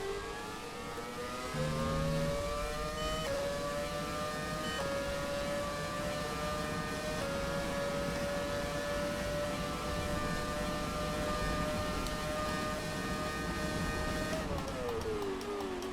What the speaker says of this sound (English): The sound of this engine is something else.